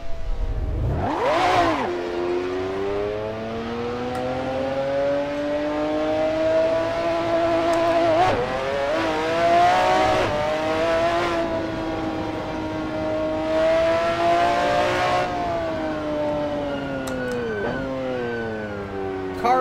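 A McLaren F1 GTR racing around Laguna Seca in Assetto Corsa, its engine note loud and close, climbing through rising revs with repeated sharp shifts and lifts over the twenty seconds, with no voices.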